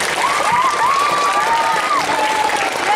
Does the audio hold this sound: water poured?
no